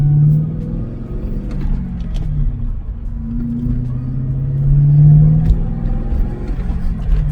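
A BMW E39 M5 rumbles steadily as it drives over a rough, frost-heaved road, with the engine drone swelling and easing and faint knocks and thuds coming through from the uneven surface.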